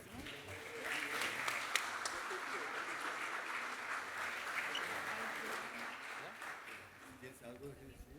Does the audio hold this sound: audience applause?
yes